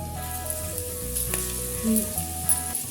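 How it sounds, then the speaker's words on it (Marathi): Crushed garlic roasts in hot oil for a vegetable dish, giving a soft, even sizzle under louder background music. "लसूण पण भाजून घेऊया।"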